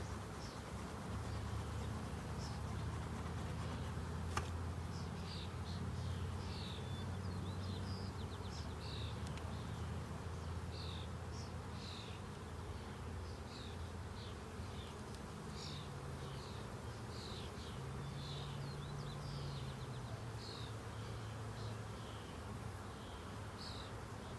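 Honeybees buzz steadily around an open beehive during an inspection. A dense, even drone fills the whole stretch, with a few individual bees flying close by.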